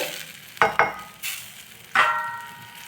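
Quiet sizzling of kara kuzhambu, a spicy tamarind curry, simmering in a pan, broken by a few sharp scrapes of a utensil stirring the mixture.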